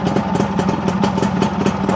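A Yamaha L2 Super motorcycle engine runs close by, with a steady, loud, rhythmic putter and no voices over it.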